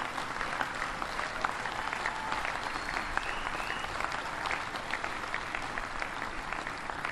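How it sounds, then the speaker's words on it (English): Steady, dense applause from an audience at the USS Indiana christening ceremony, a continuous wash of clapping that holds at an even level throughout with no voices over it. "Would you mind giving all the Hoosiers who are here a big, big round of applause, especially those 2 on the crew?"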